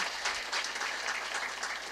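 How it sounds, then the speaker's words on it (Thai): Applause from an audience at a Thai gathering honoring a business network group, steady dense clapping that fills the whole stretch at a moderate level, with no voices over it. "ปรบมือดัง ๆให้คุณนัทพลคุ ณยลดีพลแสนค่ะ"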